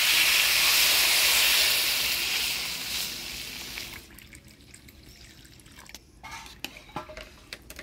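Water poured into a hot pan of frying rice for basanti pulao gives off a loud, steady steaming hiss that fades after a few seconds. Scattered drips and bubbling follow.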